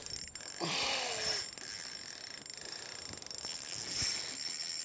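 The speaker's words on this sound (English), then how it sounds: "you can hear that drag when I actually have backed it off a little bit" A fishing reel's drag clicks as a roughly 70 cm fish takes line, with quick ratcheting bursts over faint background hiss and occasional handling noise.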